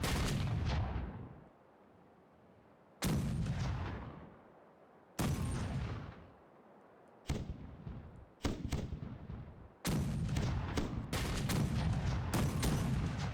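Cannon broadsides boom in a naval battle in the Caribbean Legend pirate game, several heavy blasts with long rumbling decays, the later ones coming in quicker succession, loud and close.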